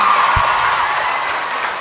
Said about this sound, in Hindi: तो हमारे सातों फाइनलिस्ट के लिए जोरदार तालियां।